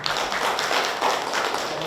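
A small audience at a Busan labor policy discussion forum claps to welcome the first panel speaker, a brief, moderately quiet round of applause.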